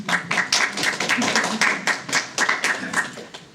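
Audience at a political talk on 1MDB claps in a loose, rhythmic burst, distinct individual claps close by landing roughly in time with one another, with brief voices mixed in.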